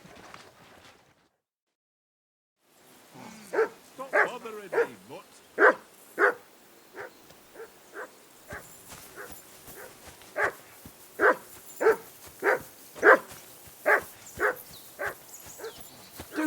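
A dog in the video game Kingdom Come Deliverance II barks repeatedly near a riverbank camp, a run of loud, close barks in an irregular rhythm after a short silence.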